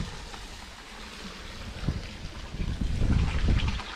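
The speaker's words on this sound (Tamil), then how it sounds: "தண்ணி தொட்டியில் தண்ணி போயிட்டே இருக்குது அதை எப்படி நிறுத்துறதுன்னு தெரியலையே" Water pours steadily from an overflowing tank at a hilltop Murugan temple, a continuous rushing wash that swells louder toward the end, with wind noise on the microphone.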